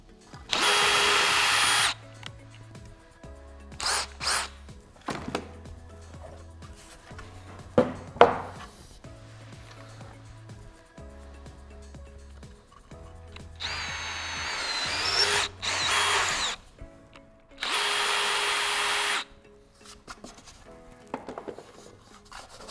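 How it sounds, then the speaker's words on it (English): A power drill taps threads into an aluminum floating-shelf bracket in repeated short bursts, each a few seconds of loud whirring, separated by pauses filled with a low steady hum and light handling clatter. "This creates the threads in the aluminum so that the threads on the set screw can grab in the aluminum"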